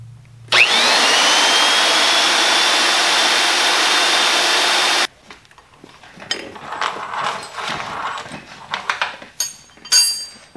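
A magnetic drill roars steadily and loud in a workshop for about four and a half seconds, then cuts off, leaving scattered faint clanks and handling noises.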